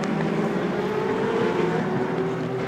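Endurance race cars, Audi, Toyota and Porsche hybrid prototypes at the Nürburgring, roar past in a steady, dense engine drone that stays loud and constant throughout.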